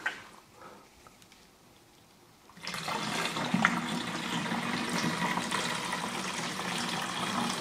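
Water pours steadily from a watering can outdoors beside a Land Rover Defender, starting abruptly after a quiet moment and running as a continuous, fairly close splashing stream.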